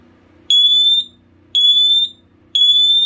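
A smoke alarm under test gives a loud, piercing electronic beep three times at a steady rhythm, each tone lasting about half a second with short gaps between.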